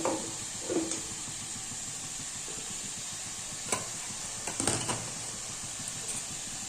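Carrot and capsicum curry stirred in a pan over steady frying sizzle and hiss, with a few scattered scraping knocks of the spoon, close and fairly quiet, no talking.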